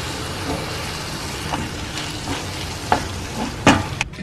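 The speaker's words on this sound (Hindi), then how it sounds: "काशीफल अच्छे से भुन चुका है, अब इसमें डालते हैं फ्रेश फ्रेश धनिया" Diced pumpkin frying in a pan as fresh coriander is stirred in, a steady low sizzle with a few light scrapes and clinks of the spoon against the pan.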